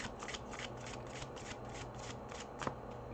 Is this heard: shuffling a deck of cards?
yes